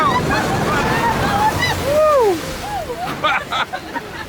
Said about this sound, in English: We're coming up to our first splash now